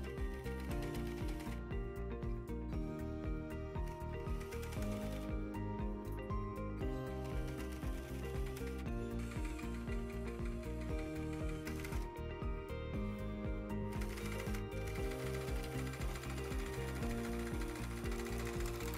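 A sewing machine stitches around the edge of a hoodie hood with a 0.7 cm seam allowance, its rapid mechanical clatter running continuously and close, with brief slowdowns between stretches.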